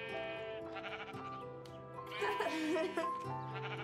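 Sheep bleating loudly and repeatedly, long wavering calls overlapping one another, close by with a continuous chorus of several animals.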